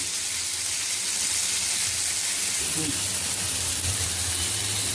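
Bombay duck (bombil) fish frying in oil in a pan, giving a steady, loud, broadband hiss and sizzle that continues unbroken throughout.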